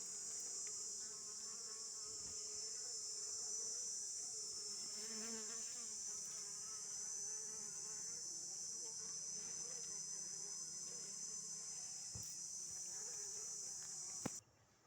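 Honey bees swarm and buzz inside a rock crevice hive, a dense, steady high-pitched drone that holds unbroken and fairly close throughout, with a brief knock near the end.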